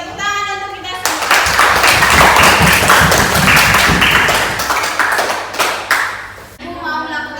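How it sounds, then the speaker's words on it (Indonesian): A classroom full of students claps their hands together in a loud, dense burst lasting about five seconds, framed by short stretches of a teacher talking before and after. "Oke, tepuk tangan untuk kita semua."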